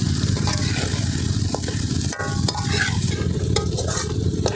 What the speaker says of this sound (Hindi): हम प्याज को गलाने के लिए थोड़ा नमक डालते हैं